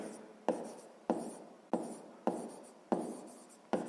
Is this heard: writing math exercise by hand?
yes